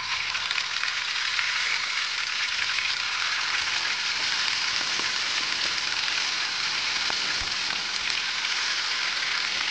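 Tocino, a cured pork, frying in hot oil with a steady, dense sizzle that stays loud and constant, with no talking.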